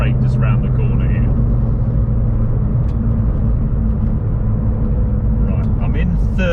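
A Porsche 911 996 GT2 Clubsport accelerates hard in third gear from low revs, its engine a steady, loud, continuous rumble heard from inside the car, with brief voice fragments over it.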